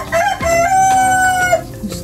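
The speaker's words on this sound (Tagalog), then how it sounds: "Gustong tukain ng manok yung aking mushroom." A chicken gives a short, loud, close squawking call that rises and holds before breaking off, heard alone outdoors near wild mushrooms being harvested.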